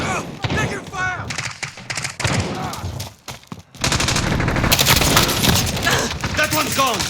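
Video game firefight at Al-Raab Airbase: bursts of automatic gunfire and single shots crackle loudly, dropping briefly to near quiet around three and a half seconds before erupting into sustained heavy fire, with in-game voices calling out over it.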